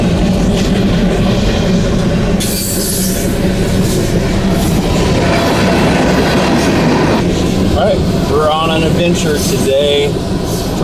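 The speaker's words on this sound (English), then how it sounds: "we got delayed by this train" A freight train rolling past a railroad crossing, loud and continuous with clattering wheels and brief metallic squeals, while people talk over it.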